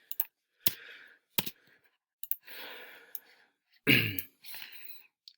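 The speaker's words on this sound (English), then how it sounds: "So we're now able just to go over to our calculator, and we can just type in" Sparse, light clicks as keys are pressed on a calculator keypad, coming in short irregular taps with quiet pauses between them.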